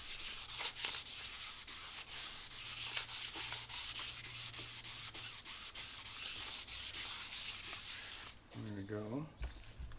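Light rubbing on a Detroit 4-53 diesel piston liner, a steady raspy scrubbing that runs continuously with soft strokes, close and moderately loud, before a brief louder scrape near the end.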